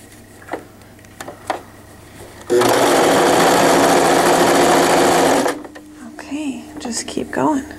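A sewing machine runs fast and steady for about three seconds while stitching fabric for stretchy leggings, starting and stopping abruptly, with quiet talk before and after.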